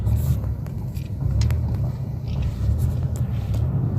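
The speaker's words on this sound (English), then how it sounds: "Shalaki, I'm driving." A car driving, heard from inside as a steady, loud low engine and road rumble with faint wind hiss, continuous throughout with no talking.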